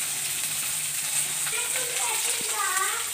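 Green chillies and curry leaves frying in a pan for a tamarind chutney, a steady hiss of sizzling oil with a faint voice briefly underneath, close by.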